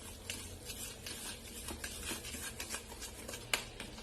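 Curd and powdered sugar are beaten until creamy in a bowl, making quiet, rhythmic scraping and tapping strokes from a utensil against the bowl, with one sharper clink near the end and no talking.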